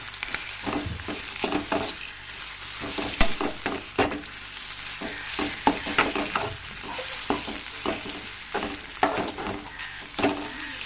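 Egg and raw banana frying in a pan, sizzling steadily as a spatula stirs and scrapes through it with repeated clinks and scrapes over about eleven seconds, with no talking.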